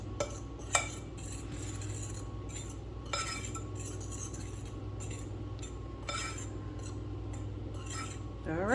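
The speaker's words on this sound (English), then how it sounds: "we're just going to give that a stir to make sure that it's incorporated" Spoon stirring baking soda and salt into a bowl of dry ingredients for kitchen sink cookie bars, with soft scraping and occasional clinks against the bowl over a steady low hum, no talking.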